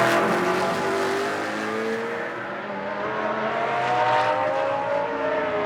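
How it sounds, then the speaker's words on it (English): BMW GT race car on the Moscow circuit during a Blancpain Sprint Series practice, engine note sweeping through gear changes as it brakes and drops into a double-left corner, heard at moderate distance with rising and falling pitch. "As the BMW climbs its way up through the far end of the circuit, now dropping down into the double left"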